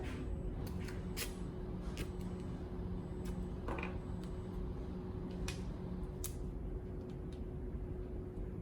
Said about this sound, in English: I'm going to use my scissors and I'm going to cut equally on both sides.